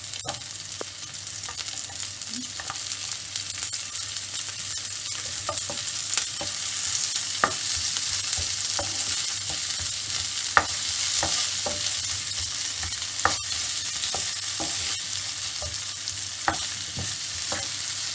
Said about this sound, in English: Now I'm adding 1 small onion thinly sliced.